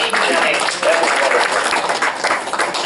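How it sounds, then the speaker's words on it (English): An audience at a Maryland Freedom of the Press Day event gives a round of applause for Boy Scouts from Troop 628, a steady burst of dense clapping from a nearby crowd lasting a few seconds. "Let's give them a round of applause."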